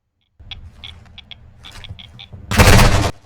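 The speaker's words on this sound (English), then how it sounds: "Luckily, I could crawl out of the way of the gunfire" Gunfire in the video game Modern Warfare DMZ: a quick scatter of sharp, light shots and clicks builds to a loud, dense burst of fire near the end of the clip, with no talking.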